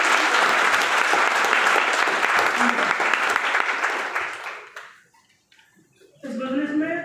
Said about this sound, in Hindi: इनको एक जोरदार तालियों से स्वागत करें